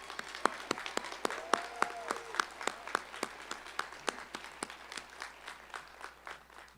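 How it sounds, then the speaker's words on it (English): Commencement ceremony audience clapping for a class of 2026 representative, sparse distinct claps in a fairly quiet room, steady and moderately spaced, with a faint voice briefly underneath. "Let's give her another round of applause."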